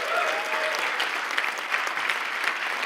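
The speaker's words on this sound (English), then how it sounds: "So I just would like everyone to give him a rousing round of applause." A large conference audience at an AI engineering summit breaks into a rousing round of applause, a loud, dense, sustained roar of clapping with scattered sharper claps.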